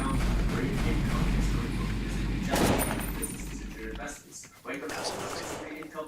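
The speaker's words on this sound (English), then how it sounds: "I hear gunfire." Bursts of gunfire in a Roblox video game crackle over a steady low hum, with a loud burst near the middle, then quieter scattered shots as the background drops away.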